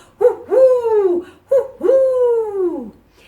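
Two loud, drawn-out owl hoots from a children's song, each a long falling tone, one following the other with a short gap and no talk.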